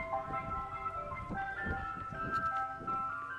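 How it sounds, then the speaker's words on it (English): A big ice cream van plays a tinkling musical-box style tune, steady and moderately close, with faint road rumble underneath. "A big van that sounds like a musical box."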